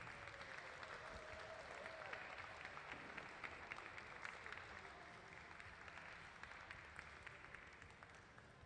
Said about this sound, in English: And let's give them a round of applause for finishing that decanter.